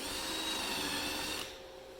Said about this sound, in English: Get your drill set straight or square. Drill through.